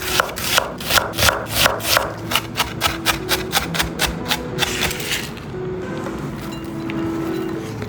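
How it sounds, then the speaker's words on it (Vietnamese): A knife chops half an onion on a cutting board, with rapid, evenly spaced sharp strikes for about five seconds, close and fairly loud, then stopping into quiet kitchen background. "Nửa củ hành tây mình sẽ cắt và băm nhỏ ra."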